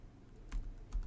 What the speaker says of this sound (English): Now, what I will do, I will type in Ansible -playbook,